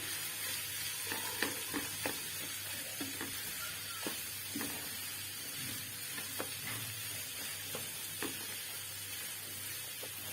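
Vegetable roll filling being mixed in a frying pan, a steady soft sizzle with scattered light scraping taps of a spoon, fairly quiet and with no voices.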